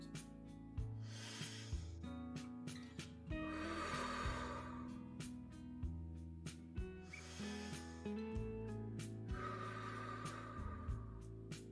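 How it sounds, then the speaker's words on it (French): Slow, deep, deliberate breaths in and out come in four long airy swells at a calm, even pace, heard close and soft over a gentle sustained musical tone. "On va prendre 3 grandes respirations conscientes."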